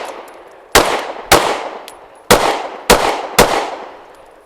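Five sharp, loud shots ring out from a Kimber R7 Mako micro compact pistol during a shooting drill, irregularly spaced about half a second to a second apart, each with a short ringing decay.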